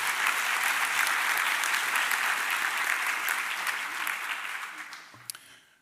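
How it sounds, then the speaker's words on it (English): Ceremony audience applauding a professor at a healthcare sciences declaration event, a dense, steady round of clapping that holds for several seconds, then tapers and fades near the end. "Can you give him a round of applause again,"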